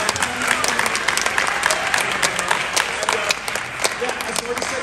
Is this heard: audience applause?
yes